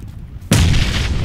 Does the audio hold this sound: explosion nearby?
yes